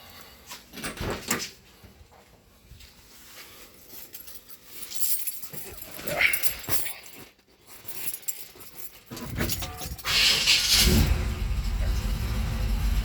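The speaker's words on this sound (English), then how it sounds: "we'll start the car and go and get it running." A car with its engine bay open during an A/C recharge: keys jingle and a door thuds first, then the engine cranks and settles into a steady, close idle rumble.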